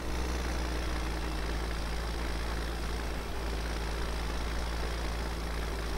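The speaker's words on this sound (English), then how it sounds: "I like the sound of this Ford tractor" Ford tractor engine in the Farming Simulator 17 video game, a steady low idling drone with an even, unchanging hum throughout and no talking.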